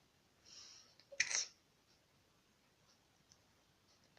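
A quiet, stifled sneeze, a short soft burst of breathy hiss near the start, otherwise near silence.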